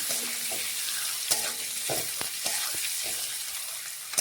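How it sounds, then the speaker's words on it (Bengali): Eggs seasoned with salt and turmeric fry in a pan with a steady, broad sizzle, broken by occasional scrapes and stirring clicks, close and continuous with no talking. "এখন আমি ডিমগুলো দিয়ে দিচ্ছি তাহলে বেশ ডিমগুলো লালচে রঙের কালার আসবে ভাজতে ভাজতে দেখুন"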